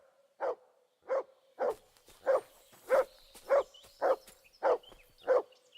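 The dog Mutt in Kingdom Come: Deliverance 2 barks nine times in an evenly spaced run of clear, mid-pitched woofs, close and distinct against a quiet background.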